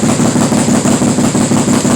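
A Can-Am 570 XMR engine idles high after a cold start, giving a loud, steady, pulsing rumble with a regular throb and no voices.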